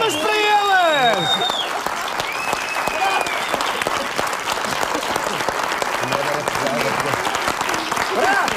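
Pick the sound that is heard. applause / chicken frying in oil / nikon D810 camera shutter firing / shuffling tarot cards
applause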